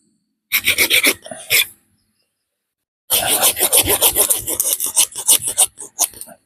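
A hand saw cuts wood in quick rasping back-and-forth strokes, a short burst, a pause, then a longer steady run of strokes, close and loud.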